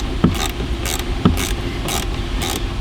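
Glove box screws in a 2013-2017 Lincoln MKZ are tightened by hand, giving two sharp clicks about a second apart with soft mechanical creaks and scrapes in between. It is close and quiet, with no talk.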